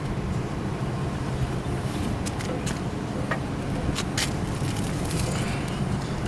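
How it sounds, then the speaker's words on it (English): The compressor of a walk-in cooler's HVAC unit runs with a steady, broad low rumble and a hiss of airflow, never changing pace, while a person talks briefly nearby. "Okay, our compressor came on."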